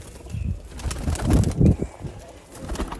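Pigeons bred for high flying coo in low, throaty bursts close by, mixed with soft fluttering and wing flaps, a busy and uneven cluster of sound.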